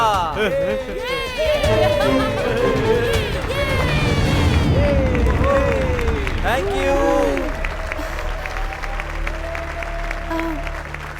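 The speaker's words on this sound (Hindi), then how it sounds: "तो आप सब इनके लिए तालियां बजाएं" Onlookers applaud the winners of a contest game in a loud, continuous burst, while several voices talk and call out over the clapping.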